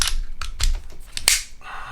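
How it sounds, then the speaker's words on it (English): Springfield XD pistol fitted with a Powder River Precision trigger being dry fired, giving several sharp, close mechanical clicks and snaps spaced irregularly with no talk. "do some dry fire through it."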